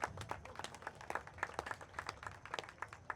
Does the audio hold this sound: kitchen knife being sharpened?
no